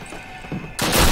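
Gunfire bursts out loud from the World War II shooter game Call of Duty: United Offensive, a heavy volley of shots erupting suddenly after a quieter lead-in.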